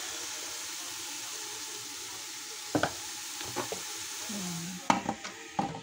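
Cardamom and dried lemon fry in a pot for kabsa, giving a steady sizzle with a few scraping stir strokes near the end while a voice speaks briefly.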